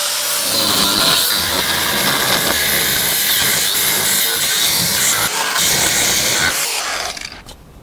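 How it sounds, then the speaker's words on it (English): An angle grinder with a thin cutoff wheel cuts through an aluminium boat tow eye, giving a loud, sustained, hissing screech that runs almost unbroken before tapering off at the very end. "To cut this off, I'm just going to use a pretty thin cutoff wheel on an angle grinder."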